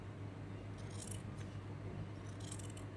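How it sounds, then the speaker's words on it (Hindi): Scissors snip through a strip of fabric being cut for a rali quilt border, a few crisp close cuts over a steady low hum, with no talking. "ऐसे ये कट गया कपड़ा।"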